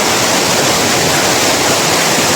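A 120-foot waterfall roars steadily, a loud, dense and unbroken rush of falling water that fills the whole clip, with no voices heard.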